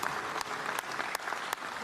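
Applause after a twelve-round boxing bout, Philip Bowes versus Akeem Ennis Brown, sounding as a faint, thin patter of clapping from a few people in a near-empty venue, with sharp claps standing out at intervals.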